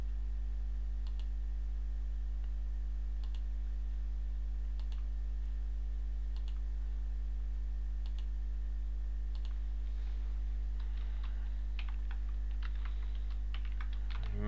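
Keys tap on a computer keyboard in short, sparse bursts at a steady pace over a constant low hum, fairly faint, with a quicker flurry of typing near the end.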